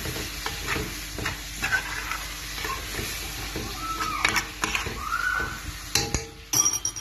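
Chicken or beef liver sizzling in a hot pan while being stirred and turned over, steady frying hiss with scraping of a utensil and a few light clinks, close and fairly loud, no voices.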